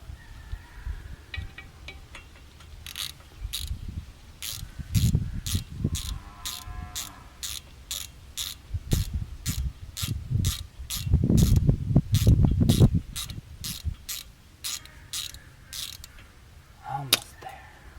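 Ratcheting wrench loosening the small brake rotor retaining screw on a Cadillac CTS during a sports brake install, giving steady rapid clicking with louder mechanical clunks and rumbles midway, close up.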